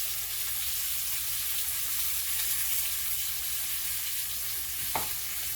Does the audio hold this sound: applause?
no